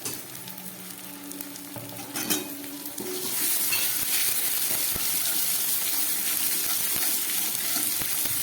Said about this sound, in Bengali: ধনে লঙ্কা গোলমরিচ দিয়ে আমার মশলাটা খুব ভালো করে কষানো হয়ে গেল